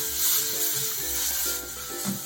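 Chili powder frying in oil in a pan for a potato curry, a close steady sizzle with soft hissing and occasional stirring scrapes.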